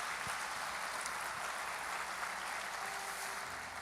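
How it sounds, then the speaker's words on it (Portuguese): A large church crowd claps steadily and loudly, a dense, continuous wash of applause that holds without a break. "aplauda Jesus bem forte"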